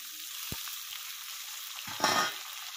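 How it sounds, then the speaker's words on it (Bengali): Sliced onions hit hot oil in a pan with a quiet hiss that swells into a brief louder sizzle and spatula scrape near the end, with a single sharp knock early on. "পেঁয়াজটা একটু ভেজে নেবো ভালো করে।"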